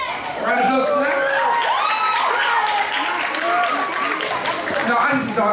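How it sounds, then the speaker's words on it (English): Audience applause at a school community production and dance battle event in Brixton, with steady clapping and crowd cheering throughout, with loud voices and shouts mixed in. "Round of applause for that."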